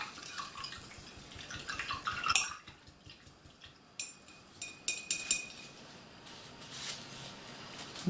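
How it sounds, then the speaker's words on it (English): A paintbrush swished and rinsed in a water jar, with soft close splashing, dripping and light clinks against the container, in bursts separated by brief pauses. "Give that brush a good wash"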